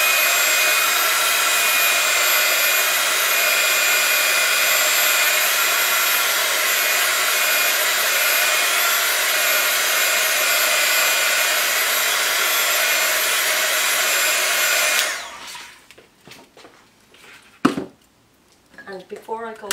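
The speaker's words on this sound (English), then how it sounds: "Now I'm going to dry that off using my heat gun, just for speed." A heat gun dries ink on a card background, blowing a steady, loud whirring hiss for about fifteen seconds before cutting off, followed by faint handling noises and a brief voice.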